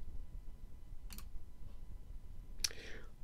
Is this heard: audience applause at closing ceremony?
no